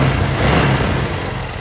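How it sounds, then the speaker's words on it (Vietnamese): Honda AB 150 motorcycle engine starting up and running, a steady low mechanical drone with a faint rough pulse, fairly loud and close throughout, with no talking. "Nổ máy, nổ máy nè."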